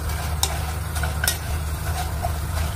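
Kangkong crackers frying over a low flame until crispy, a steady close sizzle and bubbling of oil with occasional sharp pops and stirring scrapes, no voices.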